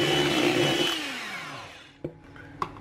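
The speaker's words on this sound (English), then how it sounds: "This time we're going to use electric beaters and whisk until we've got thickened," Electric beaters whisking egg whites in a bowl for a chocolate loaf, a loud motor whine that slows and winds down, followed by two sharp knocks as the beaters tap the bowl.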